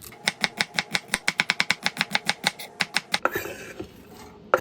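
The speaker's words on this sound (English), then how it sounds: "1 yellow onion, small diced." A knife chops a yellow onion into a small dice on a cutting board. The blade strikes roughly twenty times in a fast, even rhythm at close range, followed by a looser scraping and shuffling sound.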